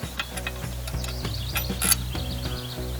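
Bolt with lock washer and nut being fitted to a BCS mowing sulky seat mount, giving a run of light metallic ratcheting clicks and small clanks, close and steady, with no talking.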